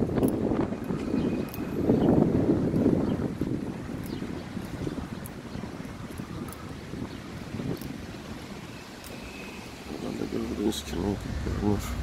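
Wind blows through Semed Vurgun Park in Baku, Azerbaijan, a steady, gusty rumble buffeting the microphone for the whole stretch, with no clear voices over it.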